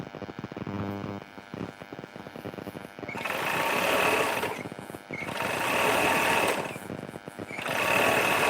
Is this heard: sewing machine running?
yes